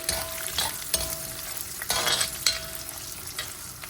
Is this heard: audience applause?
no